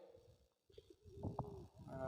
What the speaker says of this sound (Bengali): তারপরে এখানেও অনেকগুলো কবুতর আছে।